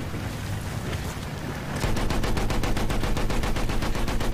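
Rapid gunfire in the Battlefield 1 World War I video game, a dense burst of rhythmic automatic shots that starts after about two seconds of rumbling battle noise and continues steadily, loud and close, with no talking.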